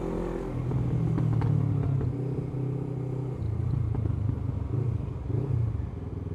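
A motorbike that had electrical problems, now repaired, runs nearby with a deep, throbbing engine note that swells and settles as it idles and revs lightly, heard alone without talk.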